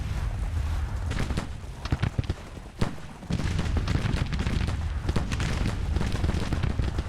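Dense volleys of musket and artillery fire crackle and boom across a Grand Tactician Civil War battlefield as troops come under fire, with many overlapping shots in a continuous loud barrage and a brief lull near the middle.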